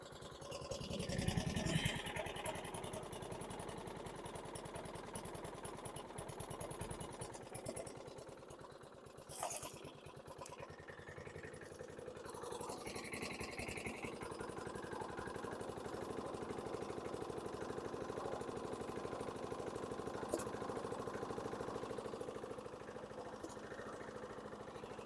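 A 2006 Troy-Bilt front-wheel-drive self-propelled lawn mower engine idles at very low RPM while smoking from an oil overfill, a steady, rough low rumble that runs continuously throughout at moderate distance, with no speech over it.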